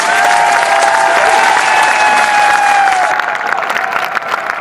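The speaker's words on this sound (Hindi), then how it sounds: "अपनी किस्मत के नाम पे कैसी ताली होनी चाहिए?" Audience at a motivational speech clapping loudly on request, a dense continuous applause from a large crowd that carries on strongly and eases slightly toward the end.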